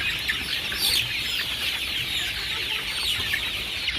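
Chickens of the KUB breed cluck in a coop, a dense, steady chorus of many birds at moderate loudness with no talk over it.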